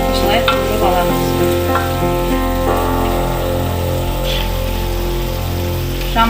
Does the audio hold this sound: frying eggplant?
yes